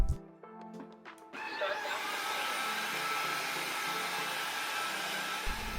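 A wet-dry vacuum cleaner switches on and runs with a steady, loud broadband whir that holds at an even level, after a few brief knocks and clicks at the start.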